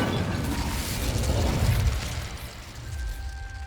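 Incendio fire spell cast in Hogwarts Legacy: a loud fiery burst with a deep rumbling low end that swells and then fades over a few seconds, with faint mechanical clicks.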